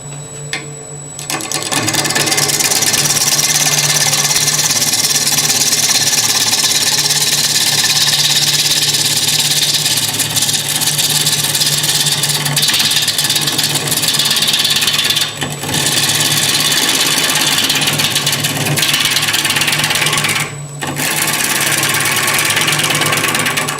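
A wood lathe turns a green wood bowl, giving a steady, loud whirring hum with a gritty, scraping cutting texture that runs almost continuously, briefly dipping twice as the cut pauses.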